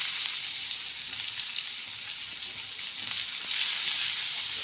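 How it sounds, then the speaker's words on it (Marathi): Onion frying in hot oil for a spiced moth bean dish, a steady, even hiss of sizzling oil, fairly quiet and uninterrupted, with no one speaking. "आता हे जळून जाण्यापेक्षा मी आधी कांदा टाकून देते"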